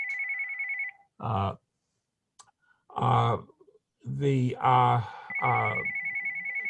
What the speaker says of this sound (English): the phone is ringing, but I'm going to let it ring